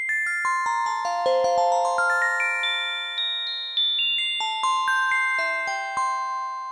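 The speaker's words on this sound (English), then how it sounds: "like a bell tone." A Yamaha DX7 FM synthesizer plays a bell tone as a clear run of bright, ringing notes, each struck crisply and left to decay, stepping up and down in a steady melodic line with no voices.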